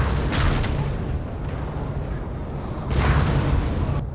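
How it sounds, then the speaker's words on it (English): Cannons fire in the Star Fort Battle video game, sounding as two heavy booms a few seconds apart over a continuous loud rumbling background. "If they're in cannon range, your unit should open up fire on them."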